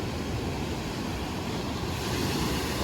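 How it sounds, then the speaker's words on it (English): Ocean waves crash against rocks at the end of a beach in El Tunco, El Salvador, a loud, continuous roaring surf with wind rumble and no voices. "You can hear the sound of the waves."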